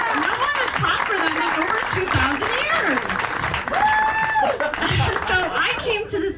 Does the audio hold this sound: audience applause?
yes